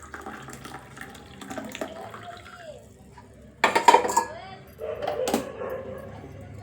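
Pots and vessels are washed outdoors under running water, with splashing and metal clatter in bursts; voices speak nearby and a dog seems to bark.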